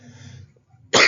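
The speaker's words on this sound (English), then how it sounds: "Sorry about the coughing thing." One sharp, loud cough bursts out near the end after a brief quiet stretch, close to the microphone.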